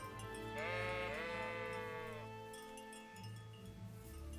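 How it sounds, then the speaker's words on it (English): Sheep in a video game bleat in one drawn-out, wavering call early on, then a low steady game ambience hum continues with no talk. "Go on, sheep."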